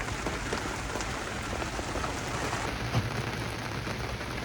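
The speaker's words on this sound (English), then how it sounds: "So the storm was basically here long enough to get everything soaking wet" Heavy rain pours down during a storm on a sailboat deck, a dense, steady hiss of drops drumming close by, with a faint low rumble.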